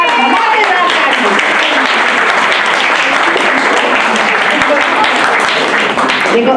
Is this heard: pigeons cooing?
no